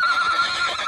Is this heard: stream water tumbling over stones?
no